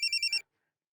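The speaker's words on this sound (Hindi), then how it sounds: "रिया के ससुराल से फोन है।" A telephone rings in a household scene from an Indian TV drama: four quick, bright trilling bursts, close and loud, then abrupt silence.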